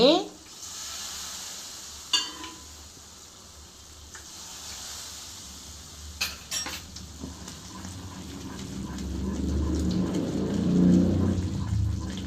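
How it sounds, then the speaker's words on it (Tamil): Two ladles of oil go into sizzling gram flour cooking for Mysore pak. Scattered clinks of a ladle against the pan come first, then a frying hiss swells and grows louder toward the end. "இப்போ பாருங்கள் மறுபடியும் நான் ஆயில் ஊற்றுறேன் ரெண்டு கரண்டி"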